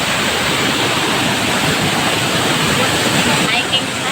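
A waterfall at a summer hiking spot near a beach, heard close to the top of the falls, roars as a loud, continuous, broad rush of water that never lets up.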